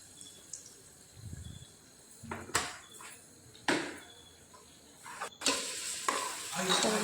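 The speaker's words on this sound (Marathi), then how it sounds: "सगळं छान मिक्स करून घ्यायचं," Red chilli powder and roasted masala stirred into hot oil in a pan for Konkani chicken rassa, with a soft sizzle under scattered scraping strokes and clinks of the spoon, fairly quiet and close, no talk.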